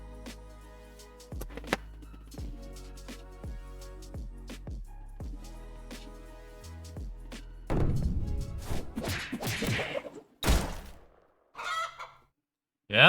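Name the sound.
rooster crowing in a video game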